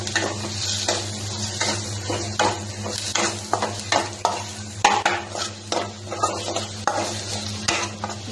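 Ginger is tossed into a hot pan and fries with a steady close sizzle, broken by repeated scraping stirs of a utensil against the pan, with no voices.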